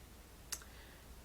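A single sharp computer mouse click while a folder is selected, close and crisp, a brief isolated tick over faint room hiss.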